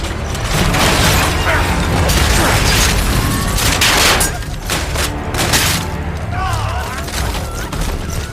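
Dense, continuous video game gunfire with booms and mechanical clatter, loud and chaotic throughout, with voices faintly mixed in.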